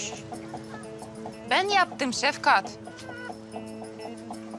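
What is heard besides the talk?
chickens clucking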